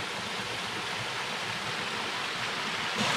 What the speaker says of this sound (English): Crossing the little stream here.